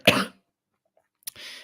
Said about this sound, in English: I do still have this cough.